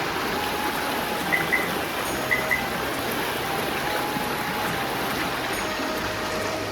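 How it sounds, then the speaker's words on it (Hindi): A river rushes loudly at night near a road on the way to Omkareshwar, a steady broadband roar that never lets up, with a few faint brief chirps above it. "यहाँ पे कोई नदी की आवाज़ आ रही है यार, बहुत ज़्यादा ज़ोर से"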